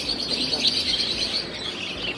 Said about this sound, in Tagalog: So, mga lovebirds.